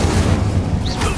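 The Confringo blasting spell bursts in Hogwarts Legacy as a loud, dense booming explosion with heavy low rumble and a brief whooshing sweep, filling the whole short moment.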